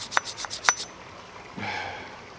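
A tenon cutter worked back and forth to scrape red paint off near a bolt, heard as a few short, sharp rasping strokes, then a softer, longer scrape, close and without talking.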